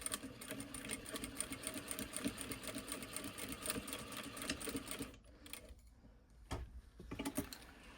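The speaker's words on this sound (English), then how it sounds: "Take your ruler, align everything, and then stitch that right on your seam allowance." A sewing machine stitches down a seam allowance on fabric in a rapid, steady mechanical patter for about five seconds, then stops, leaving a few faint clicks and handling sounds.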